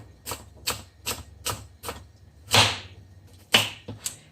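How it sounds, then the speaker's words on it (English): Sharp, rhythmic knife strokes chopping carrots on a cutting board, about eight distinct chops at a steady pace, close and clear with no talking. "Yep, I cut up 5 or 6"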